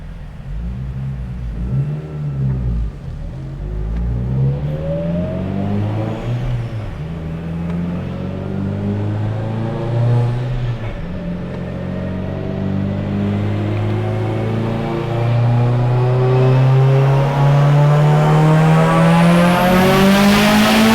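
Turbocharged Mitsubishi Evo 8 engine with Kelford cams, running on 93 pump gas, revs hard under load, a loud continuous rising pull that climbs steadily through the gears toward a high scream near the end.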